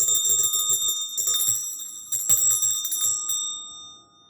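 A real brass bell Christmas tree ornament rung in several bursts of bright, metallic jingling with lingering high ringing tones, close and fairly loud, then fading out.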